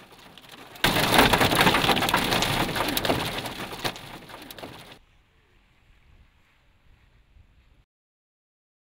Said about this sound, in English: Take a look at this size hail that we are seeing coming down right now.